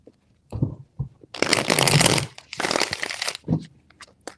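Tarot cards are shuffled in several quick, crisp riffling bursts, loud and close, with short pauses and soft taps between them and no voices.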